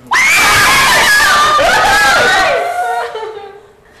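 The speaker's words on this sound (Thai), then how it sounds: "คือผมตกใจน้องกรี๊ดเนี่ยแหละ" A girl screams in fright, a loud, shrill, sustained shriek of about three seconds that wavers in pitch and fades out with a few breathy laughs.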